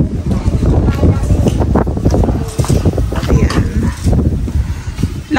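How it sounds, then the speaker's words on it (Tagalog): Strong wind buffets the microphone at a rowhouse construction site during carpentry work, a loud, continuous rushing roar with gusty surges and no pauses. "lakas ng hangin"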